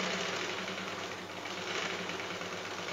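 A sewing machine runs continuously, a steady close mechanical whir and rapid needle chatter with no pauses and no voices.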